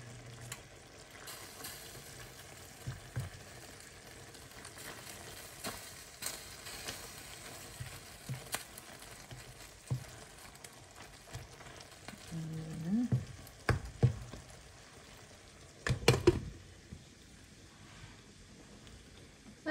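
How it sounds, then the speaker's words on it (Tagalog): Coconut milk simmering with bamboo shoots, a faint low sizzle and bubbling under a few quiet clinks and utensil knocks, with a brief louder clatter near the end. "Lutuin lang natin yung gata"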